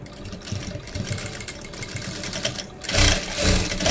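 Sewing machine stitching a seam on a dhoti, a close, continuous whirring motor run that speeds up and grows louder near the end, with no talk.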